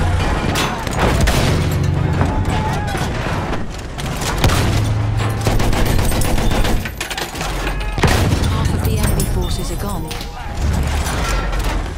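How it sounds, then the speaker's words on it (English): Machine gun fire crackles amid a chaotic Battlefield 1 battle in Galicia, dense loud bursts and booms overlapping continuously, with shouted voices mixed in. "Machine gun over there!"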